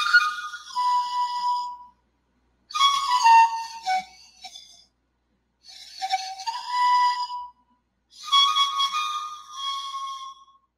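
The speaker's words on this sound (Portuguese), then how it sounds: "Os instrumentos que eles faziam com sopro era justamente para se conectar com os animais e com a natureza." Handmade wind instruments blown by mouth, four separate breathy whistling phrases with sliding pitches, each lasting about two seconds and separated by short silences, close and fairly loud.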